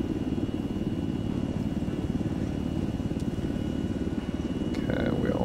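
A simulated aircraft engine in a flight simulator game, throttled down, gives a steady, dense droning rumble that holds at an even level throughout, with a faint brief whine near the end.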